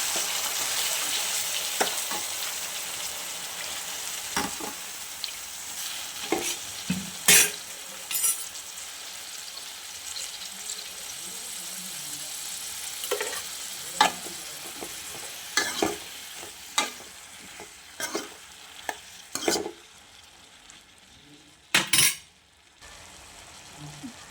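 Eggplant pieces fry in a pan with tomato, a soft continuous sizzle broken by repeated scraping and clinking stirs of a spatula at irregular intervals.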